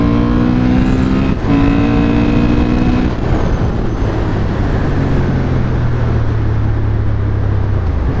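A Honda Hornet motorcycle engine drones loudly and steadily close by, its pitch rising through the revs and then easing off, with a brief shift in tone along the way and no talk.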